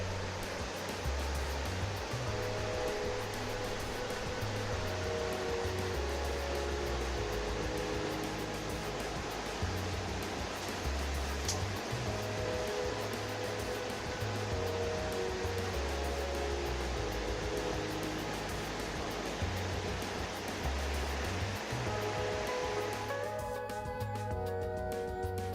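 Water rushes steadily from a river somewhere below in the Var countryside near Montfort-sur-Argens, a constant broad wash of noise heard alone, with no voices.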